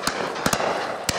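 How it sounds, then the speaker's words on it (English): Shotguns firing at an outdoor bird shoot, with guns positioned around a field and hedge, heard as a few sharp, fairly distant bangs, one of them a quick double, over a faint outdoor background. "You can hear the guns banging away."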